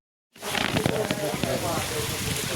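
After a short silence, dense hailstones start to clatter and patter continuously on the ground outdoors near a fishing spot. The sound is broad and steady, with brief sharper impacts, and a voice talks faintly beneath it.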